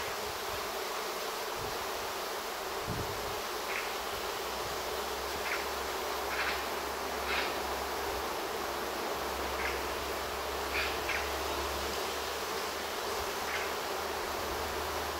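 A swarm of bees in a garden makes a dense, continuous buzzing drone at moderate distance, with a few louder passes of individual bees near the microphone. No one speaks.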